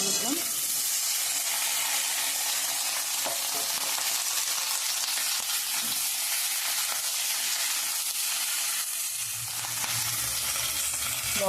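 Spinach with potato and eggplant fries in a pan just after a spice tempering, producing a loud, continuous hissing sizzle with occasional stirring scrapes and a low hum rising near the end.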